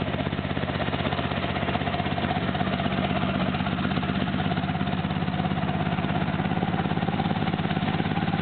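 A 1984 Honda V-65 Sabre 1100cc motorcycle engine idles cold before warming up, a steady, even low rumble holding constant and close throughout.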